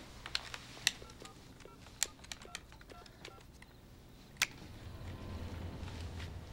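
A telephone is dialed indoors, heard as a run of quiet, crisp button presses in an irregular rhythm, followed by a low steady hum with no talking.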